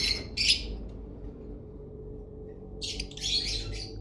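A blue breeder pair of lovebirds gives sharp, shrill squawking calls, two bursts at the start and a longer chattering cluster near the end, loud and close over a faint room hum.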